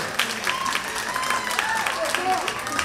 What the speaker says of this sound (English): Well, I'll clap for them, that's okay.